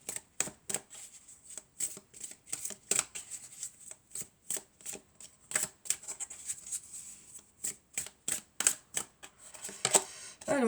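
A deck of oracle cards is shuffled by hand close up, with quick papery riffles and slaps repeating in a steady, fast rhythm and no talking.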